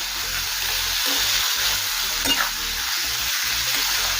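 Marinated masoor lentils frying and being stirred in a pan over a low-to-medium gas flame, a loud steady sizzle with scraping stirring, close and continuous.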